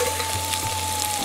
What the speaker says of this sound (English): As you can hear from that sizzle, the onions are taking off a little.